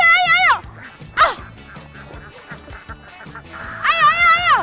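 Ducks quack repeatedly by a river in loud, close, nasal calls at the start, in the middle and at the end, over a patterned musical background.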